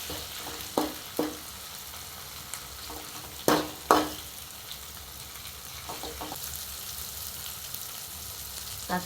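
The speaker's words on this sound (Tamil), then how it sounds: "தக்காளி போட்டு கொஞ்ச நாள் நல்லா வதங்கிடுச்சு" Tomatoes and onions sauté in a pan with a soft, steady sizzle, broken by a few sharp stirring scrapes and clacks of a utensil, heard fairly quietly with no talking.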